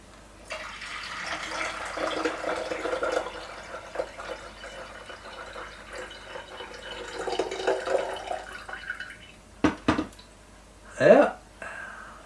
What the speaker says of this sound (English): so the water don't run out everywhere when you're tipping it in your kettle